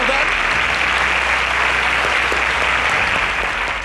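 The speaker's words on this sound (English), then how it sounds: "A round of applause for" Studio audience at a televised student quiz semi-final breaks into loud, steady applause that fills the whole stretch at an even level.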